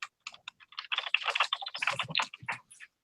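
Rapid typing on a computer keyboard in a podcast setting, with a quick irregular patter of close key clicks that grows denser midway and then thins out.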